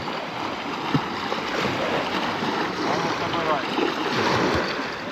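Strong wind roars across the microphone on a riverside dam during feeder fishing, a constant broadband rush, with water and faint background sounds beneath it.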